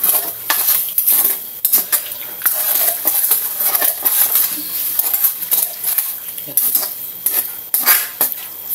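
Metal ladle stirring chicken soup in a pot, brisk repeated clinks and scrapes against the metal rim in quick irregular bursts, loud and close over a faint simmer, with no talking.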